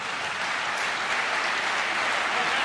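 Loud, steady applause from an audience at an award ceremony, dense clapping filling the whole stretch without a break and with no voices over it.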